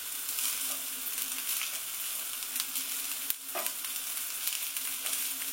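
Food frying in a pan, toasting until crisp, with a steady dense sizzle and crackle that stays loud and continuous throughout, no voices.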